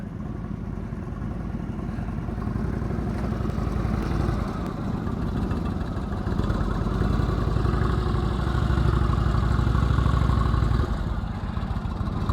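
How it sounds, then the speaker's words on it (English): A motorcycle engine runs steadily at low revs during slow clutch-control practice, a continuous close rumble with slight swells in loudness and no talking. "I hear your engine going."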